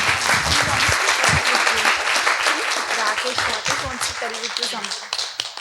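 Audience applause at an accessibility symposium, a dense, sustained wash of clapping from many hands that stays loud throughout and tapers slightly toward the end.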